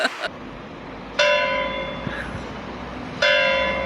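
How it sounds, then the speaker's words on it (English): Church bells ring out in two loud, resonant strikes with long ringing tails, the second arriving about two seconds after the first, over faint background noise. "I always catch the bells."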